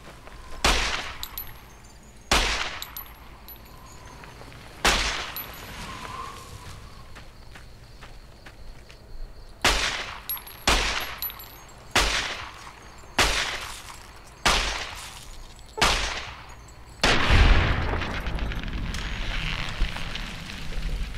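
Gunfire from a weapon in Fallout New Vegas: about ten sharp, separate shots spaced a second or two apart, each loud and abrupt with a quick decay, followed near the end by a longer rumbling burst.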